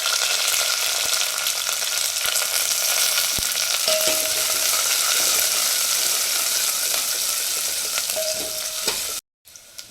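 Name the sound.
tempering mustard seeds, curry leaves and onion sizzling in pan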